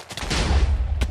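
TNT exploding in a Minecraft-style video game, a single loud deep boom that rumbles briefly, followed by a sharper crack near the end.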